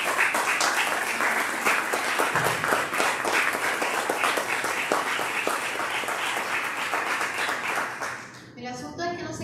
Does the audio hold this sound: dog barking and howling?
no